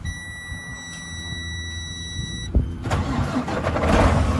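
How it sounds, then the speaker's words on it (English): A 2016 Freightliner Coronado 122 SD truck's engine starts after a steady warning tone and dash chime, a sharp crank catching at about two and a half seconds, then rising into a loud, rough diesel rumble that builds toward the end. "So let's get this thing running and let you have a listen."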